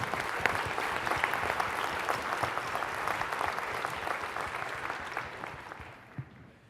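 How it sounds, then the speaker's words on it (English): Audience applause at a league meeting, a dense, steady clatter of many hands clapping throughout that thins and fades toward the end, with no talk over it. "So I think we need to applaud everyone here and everyone back home."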